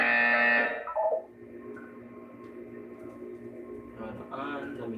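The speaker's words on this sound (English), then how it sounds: "You will hear a buzzer" A sustained electronic buzzer drones for several seconds in Portal 2, following a brief stretch of speech and fading under a short tonal sound at the end.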